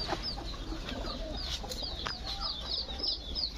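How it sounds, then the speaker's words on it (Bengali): A newly delivered batch of about 210 pigeons settles in, giving rapid, high repeated calls at moderate distance over a low steady background hum. "আমাদের ওই কবুতর গুলো তো আসছে"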